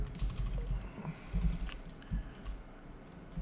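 Soft clicking keystrokes on a computer keyboard, a quiet irregular patter of taps with a few firmer presses, no voices.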